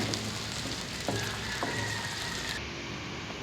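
Onions frying in a pan for a bhindi and chicken salan, a steady dense sizzle with faint crackles throughout, close and continuous with no talking.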